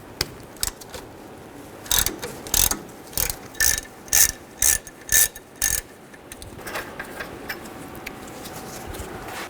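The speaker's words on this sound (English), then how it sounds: "Now take a 10mm socket or wrench and remove these" A ratchet wrench clicks in a series of sharp, close bursts while removing the brake caliper bolts on a 2005–2010 Mercury Mountaineer, then fainter ticks trail off.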